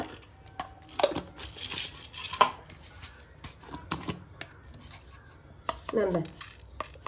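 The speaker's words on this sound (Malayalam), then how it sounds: "ഒരു ഇച്ചിരി ജീരകം കൂടെ നമുക്ക് ചതയ്ക്കാം" Cardamom pods and cumin seeds crushed for a jackfruit filling, giving a few sharp knocks and grinding taps spaced irregularly against a quiet kitchen background.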